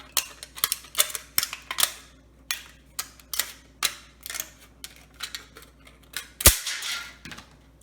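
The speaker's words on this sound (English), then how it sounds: "I'm going to cut right next to that with the scissors" Scissors snipping through a layered aluminum tube, a series of sharp, close crisp cuts in an uneven rhythm, roughly a dozen snips with one louder clack near the end, no talking.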